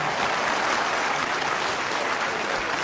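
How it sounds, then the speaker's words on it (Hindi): A crowd claps at a political rally in Sasaram, Rohtas, giving a dense, continuous wash of applause that stays loud and even throughout, with no pauses. "थोड़ा जोर से ताली बजाइए, बहुत बड़ा काम हुआ है।"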